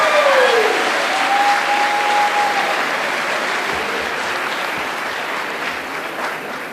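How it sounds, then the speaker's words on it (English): Sustained round of applause from a large crowd at a graduation and commencement ceremony, loud and steady, slowly tapering over several seconds with no talk. "let's give them a round of applause"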